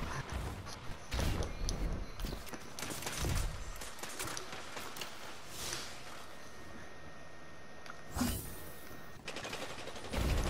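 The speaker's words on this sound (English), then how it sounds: "some skills with that machine gun" Bursts of automatic machine-gun fire from Destiny 2 gameplay crackle repeatedly over a steady background drone, with several louder volleys spaced across the stretch.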